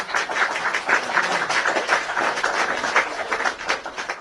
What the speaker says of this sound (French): On applaudit pour ce génie.